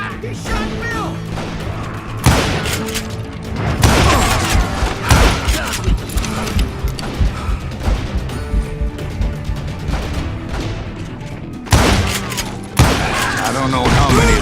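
Gunfire fills a Call of Juarez Gunslinger gunfight with loud, close volleys of shots and booms, some overlapping and others separated by short gaps, over a constant game soundscape.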